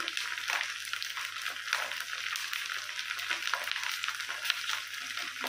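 Garlic paste sizzles steadily in hot oil in a frying pan for a tomato and coriander chutney, a dense continuous crackle with small stirring bursts, close and fairly loud with no talking.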